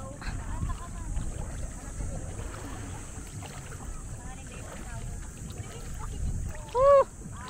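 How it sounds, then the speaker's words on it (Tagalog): Steady wind and engine rumble on open water as a boat moves along during island hopping, with faint voices and a brief louder burst near the end. "Ito yung sinakyan naming bangka"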